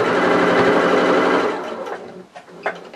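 A sewing machine runs fast, stitching fabric for a hand-sewn Humphrey toy. A close rapid mechanical whirr lasts about one and a half seconds, then stops, leaving soft handling clicks.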